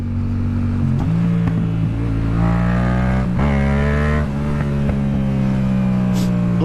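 Yamaha MT-07 motorcycle engine with a throttle fault, idling loudly and close with uneven rises in revs that falter and stumble instead of pulling cleanly, no talking.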